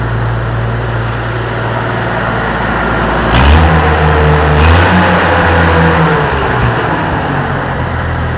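An old tractor engine runs loud and close with the hood open, idling steadily and then revving up with a rising, wavering pitch before settling, no talk.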